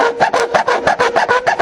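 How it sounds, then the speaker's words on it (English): Rhythmic back-and-forth filing and sanding on a rough edge during a V-Strom motorcycle accessory plug install, about eight even rasping strokes, close and clear with no talk. "I'm just going to do a little bit of sanding down just for peace of mind."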